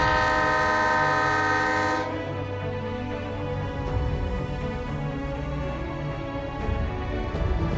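The Matheran mini toy train on the hill railway sounds a long, loud horn blast for about two seconds, then the engine and carriages rumble steadily close by.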